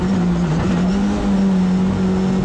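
A McLaren GT race car engine drones loud and steady on a circuit, a constant close-up in-car roar with a slight pitch dip and recovery as the throttle comes back on, with no talking.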